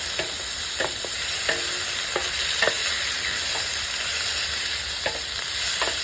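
Seasoned meat fries and sizzles steadily in a pan for paella, with a constant hiss and regular scrapes and clinks as it is stirred, close and fairly loud, with no voices.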